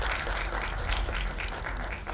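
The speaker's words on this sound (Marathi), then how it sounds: "एकदा जोरदार टाळ्या दोघांसाठी." Applause from the audience for guests at a movie trailer launch event, a brief dense burst of clapping from a crowd, loud and continuous with no speech.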